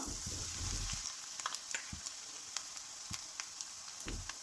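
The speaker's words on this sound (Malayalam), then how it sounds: "ഇട്ട് കൊടുത്തതൊന്ന് വറവെന്നായി വരട്ടെ ആ തേങ്ങയൊന്ന് ബ്രൗൺ കളറായി വരണം" Grated coconut and cumin roast in a pan for ginger pachadi, giving a soft, steady sizzle dotted with faint crackles and occasional light stirring scrapes.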